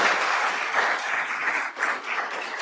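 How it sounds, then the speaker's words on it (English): An audience at a community candidates forum on Oak Island claps for two mayoral candidates, a short, steady patter of applause at moderate distance with no talking over it. "a round of applause for our two mayoral candidates"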